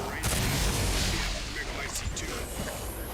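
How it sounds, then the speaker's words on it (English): A flash grenade goes off in Resident Evil Village, a dense, sustained blast of booming, crackling noise that stays loud across the whole moment with gunfire-like bursts layered through it. "Definitely gonna need the flash grenade now."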